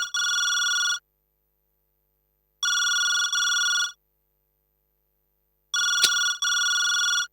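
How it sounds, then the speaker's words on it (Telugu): Telephone ringing with an electronic bell, three bursts of paired rings separated by silent gaps, clear and close, with no talk over it. "హాల్లో ఫోన్ రింగ్ అవుతోంది."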